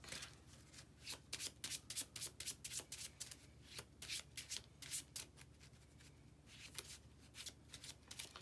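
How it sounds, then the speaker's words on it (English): A deck of cards is shuffled again and again at a table during a Marvel Champions game, quick riffling bursts in an uneven rhythm, close and quiet with no talking. "shuffle my deck"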